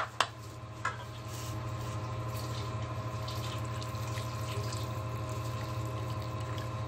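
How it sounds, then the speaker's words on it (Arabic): Water pours steadily from a tap into a pan of sauce amid a constant low hum of kitchen background noise, faint and continuous with a couple of brief clinks at the start. "هنزودهم بميه"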